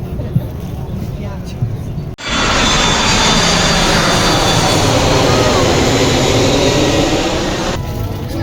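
Loud, steady roar of an Italian airline's jet airliner engines, swelling in abruptly and holding as a broad, continuous rush for several seconds before cutting back to quieter cabin hum.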